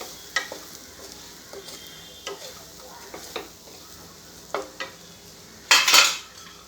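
Green peas being stirred and warmed in a pan while making samosa filling, with a spoon scraping and clinking against the pan in scattered light strokes under a soft sizzle, ending in one louder scrape.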